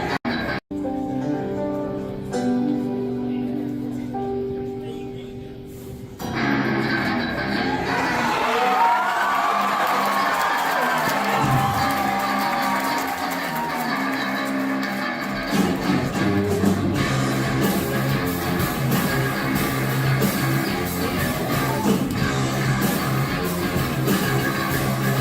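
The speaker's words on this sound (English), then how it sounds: "You can hear the whole fucking crowd singing with it" A concert crowd sings along with a solo, a broad roar of many voices with cheers and whoops that fills the space after a quieter opening and stays loud and sustained throughout.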